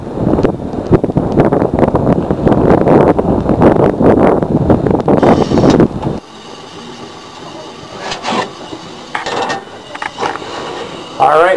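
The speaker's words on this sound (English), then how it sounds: "It's getting very windy outside." Loud, roaring wind buffets the microphone for several seconds at a tent campsite, then drops to a quieter outdoor background with occasional rustles and knocks.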